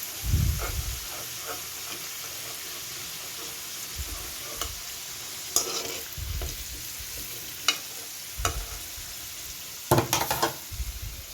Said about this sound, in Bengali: আলুটা ফ্রাই হয়ে আসছে